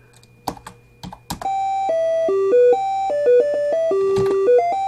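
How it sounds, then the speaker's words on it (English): Control-Alt-C is pressed on a computer keyboard in TempleOS, a few sharp key clicks up front, then a bright electronic hymn melody of sustained beeping tones plays loudly. "Okay, so I hit Control-Alt-C."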